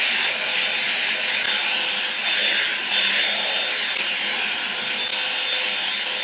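A hair dryer runs on its high setting while blow-drying hair, a steady loud close-up whooshing roar that holds evenly for several seconds with only slight shifts in tone.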